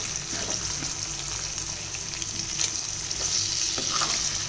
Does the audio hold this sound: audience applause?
no